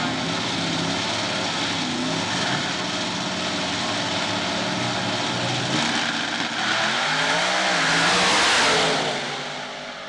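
Drag racing at a dragway, a Mopar with a 705 cubic inch Dodge engine racing a '57 Chevrolet, a loud sustained roar of high-revving engines that swells as the cars pass, then fades.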